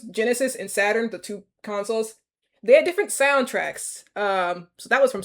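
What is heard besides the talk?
None of the usual background noises is heard.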